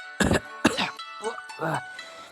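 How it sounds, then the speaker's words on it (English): Several harsh, wet coughs in quick succession, close and fairly loud, with a raspy throaty quality between bursts. "as he began coughing"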